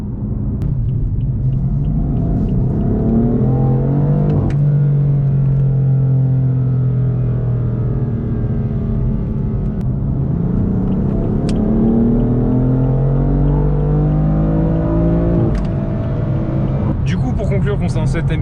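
A BMW M4 F82 engine revs and pulls strongly, its loud, deep rumble rising and falling in pitch through gear changes with brief shifts, close and continuous for the whole stretch.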